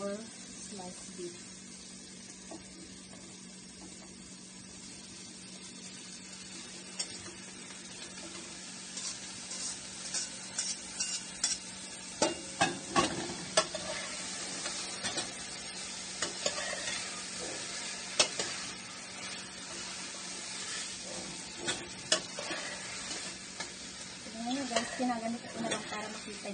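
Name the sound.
sliced beef frying and being stirred in a pan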